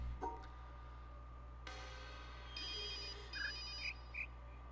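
A cell phone ringtone sounds as a few short, bright electronic tones over a steady low hum. It is fairly faint, and no one speaks.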